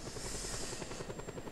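Helicopter in the video game Just Cause 2, a steady rotor drone with a broad whooshing hiss, continuous and moderately loud throughout.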